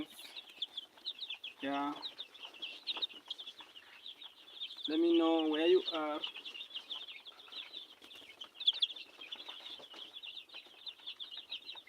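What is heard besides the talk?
chickens clucking and flapping wings on a farm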